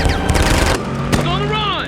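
Loud, rapid machine-gun bursts in an action scene from the sci-fi film Transformers: Dark of the Moon, a dense rattle of shots that breaks into separate booming impacts and ringing whines, with a shouted voice mixed in.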